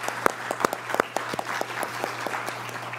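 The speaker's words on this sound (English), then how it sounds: "I want to give them a round of applause for that." Applause from a small audience at a talk or seminar, with discrete claps scattered over a steady hum, moderately loud and close.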